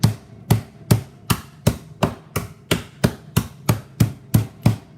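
A hammer crushes ice for a mint julep, about a dozen sharp, close blows landing at a steady, slightly uneven rhythm, each a crunchy thud with a brief rattling tail.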